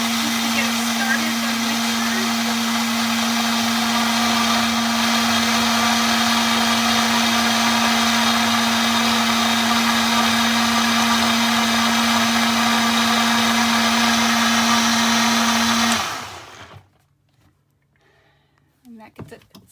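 A kitchen blender whirs steadily at high speed, mixing mung bean batter for a vegan omelet, a loud even motor whine for about sixteen seconds before abruptly spinning down to near silence.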